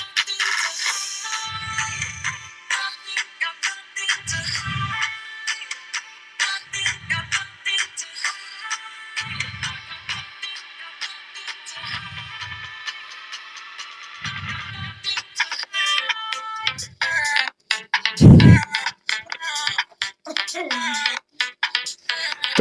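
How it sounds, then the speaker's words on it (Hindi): Music plays through the loudspeaker of an iQOO Z3 smartphone, a steady electronic melody with a regular thumping bass pulse about every second, ending with a loud hit and a brief pause near the end. "तो फ्रेंड्स ये तो थी इसकी म्यूजिक की क्वालिटी जो साउंड की है"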